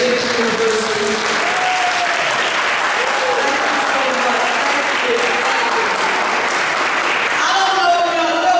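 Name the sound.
audience applause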